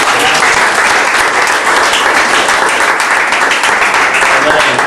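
A church congregation claps in steady, loud, continuous applause, with voices faintly mixed into the noise.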